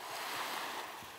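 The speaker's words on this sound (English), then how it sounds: "The water lapping up on the shore." Water laps at a lakeshore, a steady soft wash of small waves with light wind noise, close and continuous, no voices.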